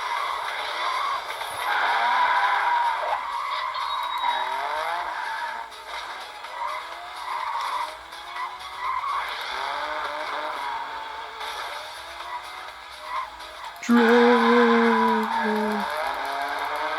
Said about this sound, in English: Drift, baby!